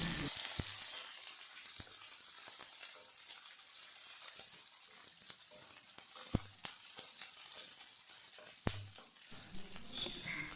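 Two large chopped onions sizzle as they fry in a pan for a papaya stir-fry, a quiet continuous hiss with a few scattered clicks and taps of utensils nearby, and no voices.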